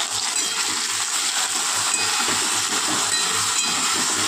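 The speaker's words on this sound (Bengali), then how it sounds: "জিরে ধনে লঙ্কা হলুদ দিয়ে এবার একটু কষিয়ে নেব" Okra frying in oil with cumin, coriander, chilli and turmeric stirred in: a steady, close, continuous sizzle and hiss with no pauses and no talking.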